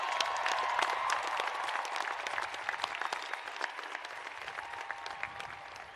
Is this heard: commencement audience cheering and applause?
yes